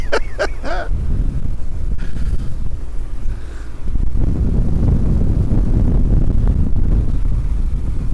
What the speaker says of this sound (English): it's quite windy out here now